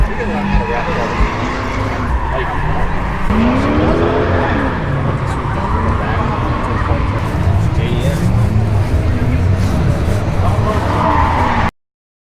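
A Honda S2000 drifting at an Import Alliance car event, tires squealing in repeated rising and falling howls over a steady loud engine roar, close and continuous, with crowd or voices mixed into the background noise.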